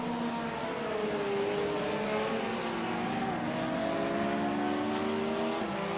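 Race car engine in a sportscar sim racing game, droning steadily with rising and falling pitch as it runs through gears, loud and continuous with no talk.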